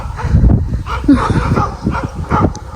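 Several dogs bark and yip close by in an agitated, overlapping burst, with loud, rapid, irregular barks running through the whole stretch.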